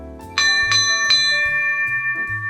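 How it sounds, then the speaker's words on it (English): An old bell engraved Lady Nelson, aboard a classic wooden Herreshoff 28 sailboat, rings three bright, close, loud strikes in quick succession, followed by a long shimmering ring that slowly fades. "I'm going to tell you the story of this rather intriguing bell."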